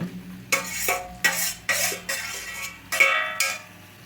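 Fried onion pieces go into curry in a pan, heard as about six distinct scraping, clattering spoon strokes in an even rhythm over a faint sizzle, close and alone.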